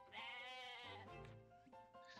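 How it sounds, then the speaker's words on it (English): A goat bleats in the video game Atelier Ryza, giving one wavering bleat followed by a shorter, quieter trailing call. "Oh, Ryza, my goat finally came back."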